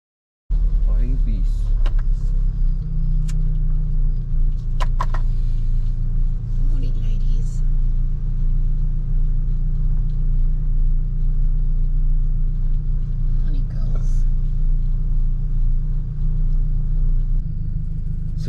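A car drives slowly along rough tracks in Mapungubwe park on the Mazhou side, giving a constant low engine rumble throughout with a few faint knocks and rattles on top.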